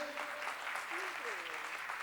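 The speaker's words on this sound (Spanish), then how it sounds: "Fuerte el aplauso nuevamente." Audience applause at a congress on child poverty, a steady wash of clapping heard from across the hall, with a little whistling or voice over it.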